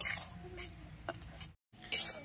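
A metal spatula scrapes and clinks against a pan while rice flour is stirred and dry-roasted, a few light close scratches and taps with a brief gap of silence before a final sharper scrape.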